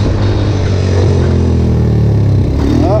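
A Yamaha Raptor 250 quad's engine revs steadily and loud in third gear while held in a wheelie in a small parking lot, rising slightly toward the end.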